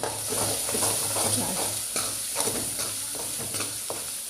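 Coriander-cumin powder sizzling in hot oil for a Kathiyawadi sev and milk curry, a continuous close frying hiss with soft stirring scrapes throughout and no talking.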